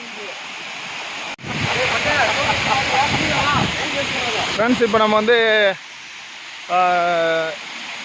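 Steady rushing roar of the Megam waterfall in the Kalvarayan hills, loud and constant, with several people talking over it near the microphone.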